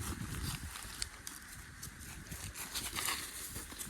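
Horse hooves clip-clop in quick, irregular steps over a steady outdoor background, faint and somewhat distant.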